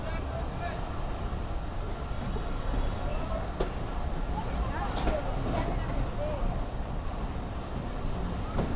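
The Dhalarchar Express pulls out of Lalitnagar station and runs through Pabna. Its low, continuous rumble and rattle comes from on board, with a few faint clanks, and a voice talks over it.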